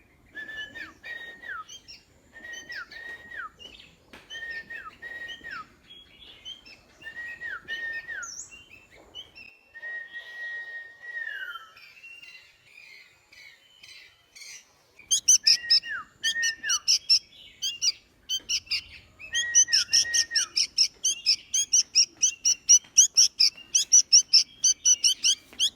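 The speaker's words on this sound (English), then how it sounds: "I started taking care of and playing with the birds in the garden." Small birds in a home garden beside a wooden house whistle repeated rising-falling calls, softly at first, then a denser burst of sharp, rapid chirps takes over in the second half, close and unaccompanied by voices.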